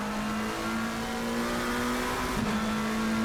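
McLaren race car in a sim racing game holds a steady high engine note, a sustained buzzing drone with a brief wobble near the end, loud and continuous with no talk.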